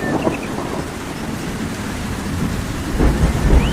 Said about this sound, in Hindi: तूफान और ज्यादा तेज हो जाता है।